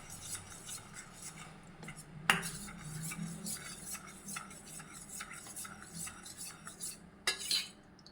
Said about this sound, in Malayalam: അത് കട്ട് ചെയ്യാണ്ട് നമ്മൾ അരിച്ച് ഇങ്ങനെ നല്ല പോലെ കലക്കണം കേട്ടോ